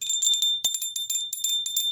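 High tinkling notification bell sound effect ringing repeatedly in quick bright strikes, one sharper hit near the middle, steady and fairly loud on its own.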